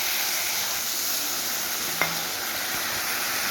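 Spice masala for a thin fish curry with vegetables frying in a pan, a steady loud sizzling hiss with one brief sharp clink of a utensil against the pan midway.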